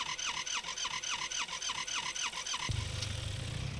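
Car driven in the survival video game SCUM, with a looping engine whine and rhythmic squeal pulsing for a few seconds before cutting to a low, steady rumble, heard alone at moderate volume.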